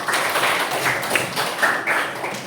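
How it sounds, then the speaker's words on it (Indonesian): A classroom of students claps together after their teacher calls for it, a dense, steady patter of hands lasting a few seconds without a break. "Tepuk tangan buat kalian semua dulu"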